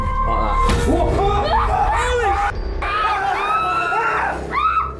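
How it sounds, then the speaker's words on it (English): A paranormal investigation crew screams in panic as a door swings open by itself, a burst of loud, overlapping shrieks and yells from several people close by, rising and falling over about five seconds. "They all scream as they watch the door stand ajar for a moment before slowly closing again."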